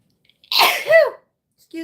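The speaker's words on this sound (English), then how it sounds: "I gotta sneeze." A single close, loud human sneeze during a live crafting session, a sharp burst that trails off, followed briefly by a voice.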